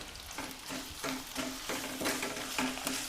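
Hot oil sizzles with fenugreek, curry leaves and hibiscus flowers, a faint steady crackle and hiss with a few louder bursts, heard close and alone.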